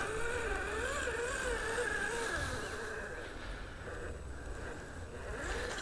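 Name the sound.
electric motor of RC crawler SCX10 III Bronco under load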